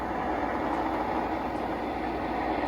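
A Lionel Alco PA O gauge model train locomotive runs steadily, a continuous close rumbling and whirring drone with no pauses.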